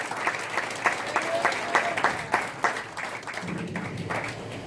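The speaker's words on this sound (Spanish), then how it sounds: "denle fuerte esas palmas a Jesús en esta hora" Church congregation clapping hands in a steady rhythmic beat, a run of sharp, evenly spaced claps filling the room with low crowd murmur beneath.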